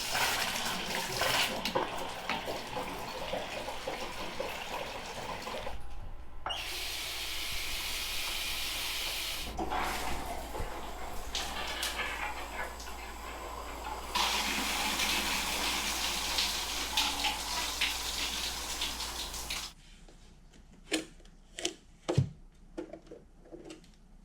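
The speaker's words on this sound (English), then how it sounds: "let me go drain some faucets upstairs" Water rushes steadily from household faucets being drained, a hissing flow that shifts in pitch, then cuts off, leaving a few clinks and drips.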